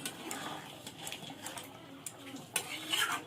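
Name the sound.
stirring biryani masala into the meat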